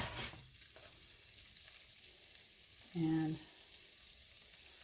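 Sage leaves tossed into melted, browning butter give a steady, soft sizzle and frying hiss close to the pan, with a brief clatter and a single spoken word.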